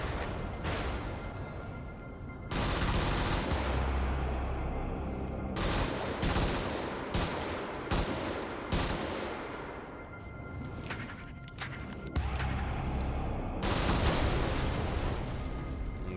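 Sustained weapon fire from the mech combat game Brigador, dense rapid bursts and blasts rolling almost continuously with short gaps, loud and close, with no talking.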